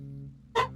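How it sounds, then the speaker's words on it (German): A single short dog bark in the video game Blightstone, one sharp burst near the end after a quiet stretch with low background game music. "Oh, der Hund."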